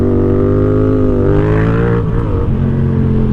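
A Yamaha XSR 700 motorcycle cruising in third gear at about 24 miles per hour, its engine giving a steady, loud, close droning hum with a slight rise and dip in pitch near the end, with no talk.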